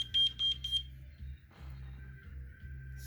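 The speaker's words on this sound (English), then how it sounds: "I'm just shutting off an alarm here" Smoke alarm chirping in short loud bursts, three quick high beeps at the start, then a steady faint tone with low hum beneath as it is being shut off.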